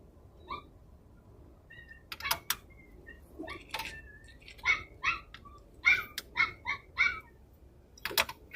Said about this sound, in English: Dog's just in there going nuts.